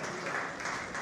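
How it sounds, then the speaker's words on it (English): Applause from the audience at a university entrepreneurship pitching competition, a brief steady patter of clapping, moderately quiet, with a voice talking over it. "Pick a round of applause for them."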